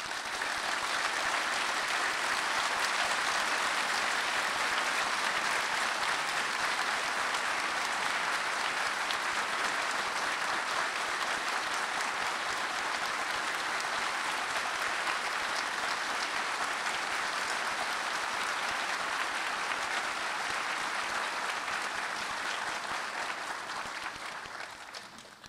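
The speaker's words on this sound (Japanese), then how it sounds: "大きな拍手でお迎えください。" Sustained, dense applause from a large audience greets a speaker entering a political talk event in Yurakucho, Tokyo, loud and unbroken for about twenty-five seconds before fading slightly at the end.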